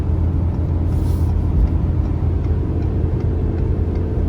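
A 2019 Ford F-450 diesel pickup with 4.30 gears at full throttle in fourth gear while towing about 30,000 lbs, heard as a loud, steady, low engine drone and road rumble from inside the cab, with no talking.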